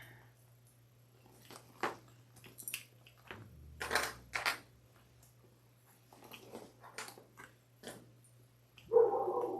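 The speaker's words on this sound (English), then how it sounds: "Sorry for the barking dog." A dog barks at an open storm door indoors, with scattered sharp barks and a few growls spread irregularly through the clip, fairly close, over a steady low hum and quiet surroundings.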